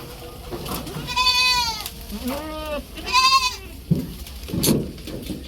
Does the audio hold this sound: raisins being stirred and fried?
no